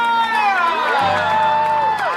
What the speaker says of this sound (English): And can we get a hearty huzzah for Flynn right on?